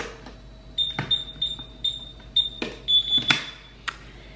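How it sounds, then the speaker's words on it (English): A series of short electronic beeps from a home alarm keypad as the alarm is set, followed by a steady alarm tone, with soft handling clicks nearby. "hold on, I've got to set the alarm."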